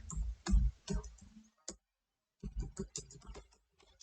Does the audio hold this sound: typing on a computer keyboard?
yes